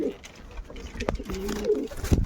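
A Chhadga pigeon coos in a short series of low, throaty notes close by, with faint background sounds and some voices around it.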